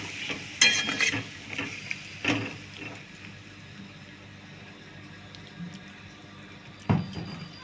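Fish being stirred with Kashmiri chili powder in a pan, a few soft scraping and clinking stirs with light sizzling, close and moderately quiet, with no talking.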